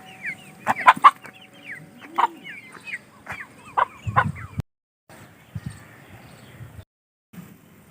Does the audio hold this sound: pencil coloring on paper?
no